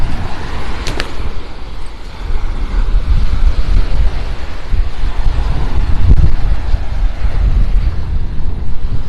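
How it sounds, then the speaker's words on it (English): Strong wind buffets the microphone on Bowman's Beach, Sanibel Island, a loud continuous low roar with gusty swells and no voices. "Hopefully the wind isn't terrible."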